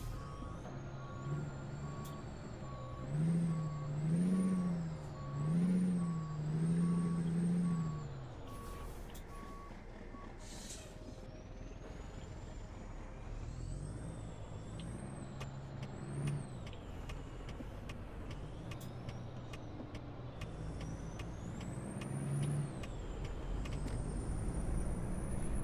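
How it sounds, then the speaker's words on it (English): A W900 Tri-Drive truck in a driving game mod runs its engine, with rising and falling revs, a steady reversing beep early on and air brake hisses, all loud and alone without talk. "Let's hear the sounds of this truck."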